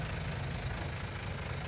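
Hybrid Suzuki Wagon R engine idling, a steady low rumble with a faint mechanical tick, close by and continuous with no talk.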